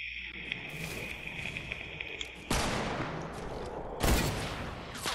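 Gunfire in the Fortnite video game includes a hunting rifle, with two sharp loud reports about a second and a half apart, each followed by a long echoing tail over a steady game hum.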